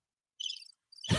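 Cricket chirps play as a short comic sound effect, a brief high trill in two bursts before a louder noise cuts in at the end.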